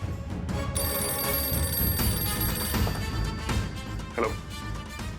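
A telephone rings steadily with a bright electronic tone while a call is being placed, loud and close over a dense backdrop of dramatic music in an Indian television drama scene.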